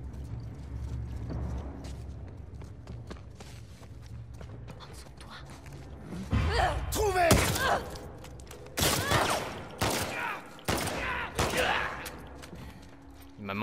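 Bursts of gunfire from The Last of Us Part II cut in sharply, several loud volleys in the second half after a quieter stretch of game ambience and background music, some overlapping like rapid fire.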